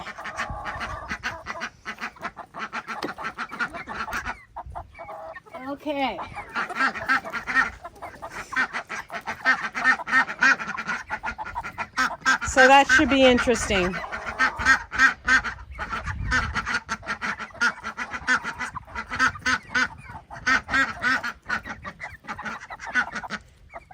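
Loud, noisy quacking and honking from a group of ducks and geese being moved on a homestead, nearby and continuous, with a brief spoken remark mixed in.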